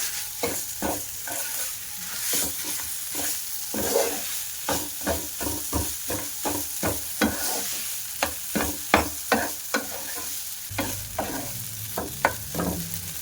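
Grated potatoes go into a pan of frying spice mix, with a steady sizzle beneath a run of sharp, rhythmic scraping and stirring strokes close by, the strokes clustering faster toward the end.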